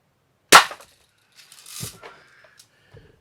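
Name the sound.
Red Ryder BB gun with aftermarket spring firing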